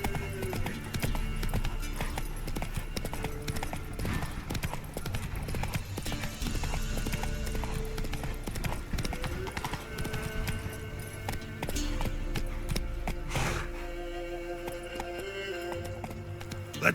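Hooves of Roach, a horse in the Witcher 3 video game, clip-clop in a steady galloping rhythm over game music and ambience, loud and close for most of the stretch before thinning out near the end.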